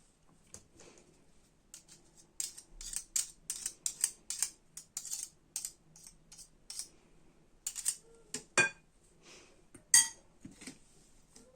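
A spoon scrapes and clicks against a bowl while stirring cake batter, in a quick, irregular rhythm, close and fairly quiet, with no talking.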